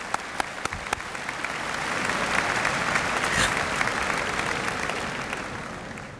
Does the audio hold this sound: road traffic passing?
no